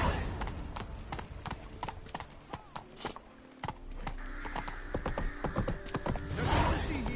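The horse Roach in The Witcher 3 gallops, rhythmic clip-clop hoofbeats pounding in quick succession, briefly easing off then resuming, with a faint whinny and light ambient game sounds.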